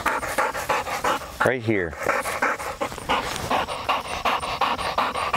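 A gun dog pants steadily during a field training session, quick breaths running under a handler's repeated spoken commands close by.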